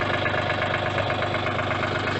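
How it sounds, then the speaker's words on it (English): A backhoe tractor engine low on hydraulic fluid runs close by, a steady, rough idle with a faint rhythmic knock beneath the continuous drone. "But the tractor runs fine until it makes that knocking noise."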